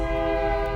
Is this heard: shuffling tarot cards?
no